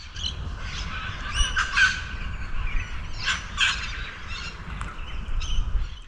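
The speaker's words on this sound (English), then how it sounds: "let's have a listen to the birds" Birds calling outdoors after a light rain, with repeated bright chirps and calls rising above a low steady rumble of background noise, moderately close and continuous.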